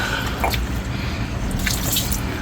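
Water is poured from a cup to rinse something off aboard a sailboat, a short, close run of splashing and dripping that stays fairly even throughout.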